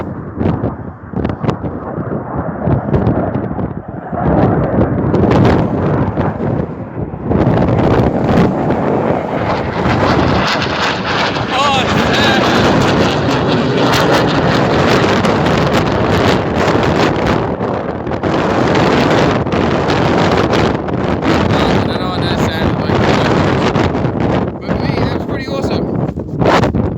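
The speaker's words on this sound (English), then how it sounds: "Sorry about the wind and noise and all that" Strong wind roars across an outdoor farm, buffeting the microphone in loud, continuous gusts for the whole stretch, with a heavy low rumble and no quiet gaps.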